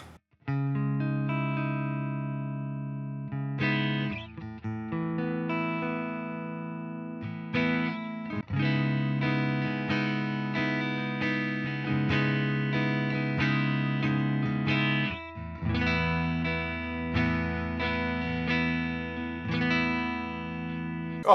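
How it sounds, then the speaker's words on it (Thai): Clean electric guitar chords through the MLC Sub Zero amp plugin, strummed and sustained in a steady progression with short pauses between changes, clear and undistorted, played alone without talk. "ตีคอร์ดได้อะไรได้ก็คือเป็นซาวด์ที่ใช้งานได้เลยเคลียร์สะอาดนะครับ"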